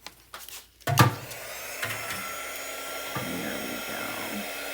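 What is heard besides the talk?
drying a scrapbook page, likely with a heat tool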